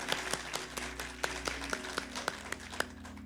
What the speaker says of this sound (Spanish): démosles ahora sí un aplauso a todos